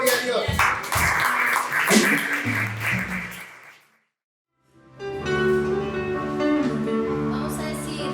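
A church congregation claps loudly in worship, with voices mixed in, then a brief silence before music with sustained tones takes over.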